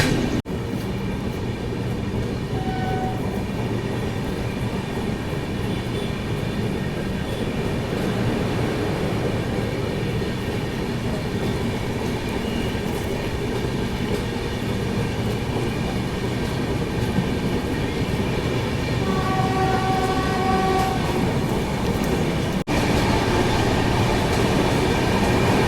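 Sealdah Bikaner Duronto Express running at speed, a steady loud rumble of wheels and carriages with rhythmic clatter over rail joints and occasional faint squealing, continuous throughout with no talk.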